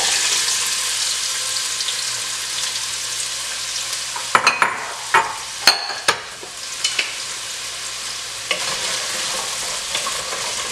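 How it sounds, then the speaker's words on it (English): Carrots and yellow onion sauté in a pan for homemade lentil soup: a constant hissing sizzle, with a cluster of clanks and scrapes from stirring partway through, and no one speaking. "I'm just gonna saute"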